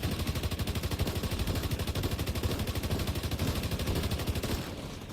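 Rapid, continuous gunfire rattles through a video game battle, loud and dense with a rhythmic burst pattern, easing slightly at the very end.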